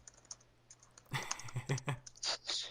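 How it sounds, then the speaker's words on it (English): Fingers type fast on a computer keyboard in a quick burst of close, crisp key clicks. A faint low hum sits underneath, and no one speaks. "You're gonna see my little fingers spamming at my keyboard."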